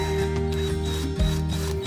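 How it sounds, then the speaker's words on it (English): A drill bores into the side of a small square wooden post, a steady close mechanical whir with a constant tone and a brief dip and surge partway through, alone without talk. "Turning it around the corner, I am now drilling into the side."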